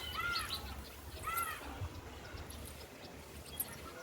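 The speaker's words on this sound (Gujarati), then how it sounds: "અને ચકલા મસ્ત બોલે છે" Sparrows chirp in trees just after rain, a couple of bright, short call bursts near the start over steady low outdoor rumble and background hiss.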